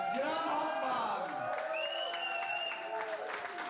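Tournament crowd at the 2024 Fypfoos Muenster Open cheering, whooping and applauding continuously, a dense close wash of clapping and shouts with voices mixed in throughout.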